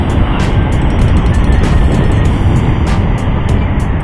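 Car driven at full throttle on the Ciamis southern ring road, a loud, steady engine and road roar close by with continuous wind buffeting, no pauses or voices.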